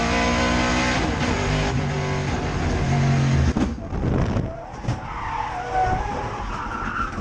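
Walt Brown's race car spins at about 120 mph during a vintage helmet race at COTA, tires screeching in a loud sustained skid that fades as the car slides, with engine noise underneath.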